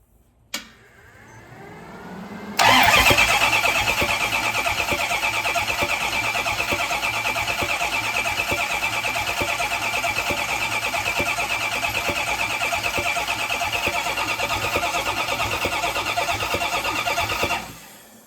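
A car engine with a flat tappet camshaft cranks over after a brief click, then runs as a loud, steady, continuous churn for about fifteen seconds before cutting off abruptly.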